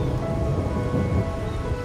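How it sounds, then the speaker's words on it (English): Rain falls steadily in a video game scene, a dense, continuous wash of patter with low rumbling underneath, heard alone without talk. "Here we stand, united by the rain, drawn to the same painting."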